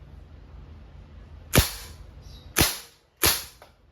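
Three sharp, loud pops from a Crosman A4-P CO2 airgun shooting steel balls in semi-automatic mode, spaced about a second apart, each with a quick decaying tail and a faint metallic ping.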